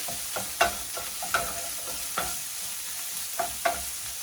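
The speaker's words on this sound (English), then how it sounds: "the next thing I'm going to add is 1 chopped onion. Okay. Give it a quick toss." Chopped onion tossed and frying in a pan for a breakfast burrito, a continuous hiss of sizzling broken by several sharp scrapes and clacks of stirring, no voices.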